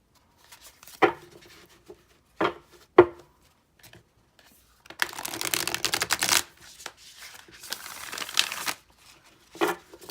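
Tarot cards from a deck with flexible cardstock being handled: a few sharp isolated snaps, then two longer bursts of riffle shuffling with a rapid flutter of cards cascading together, close and fairly quiet.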